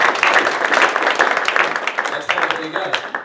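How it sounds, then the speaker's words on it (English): Audience applause at a small business meeting: a burst of clapping hands with voices talking over it, fading into chatter near the end. "Round of applause, everybody, for those"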